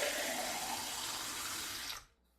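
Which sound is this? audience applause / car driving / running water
running water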